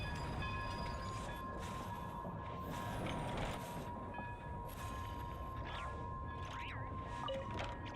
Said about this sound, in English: And then we can call the train.